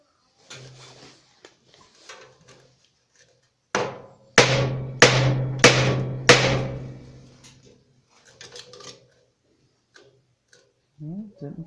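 Hammer blows on the steel fender of a 1948 Ford F1, four loud, evenly spaced metallic strikes ringing close up, with scattered lighter taps and clanks before and after.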